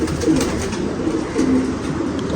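Pigeon cooing from a prized female racing pigeon, Taar Wala, a low repeated throaty coo rising twice over a steady close, slightly noisy background, with no talking.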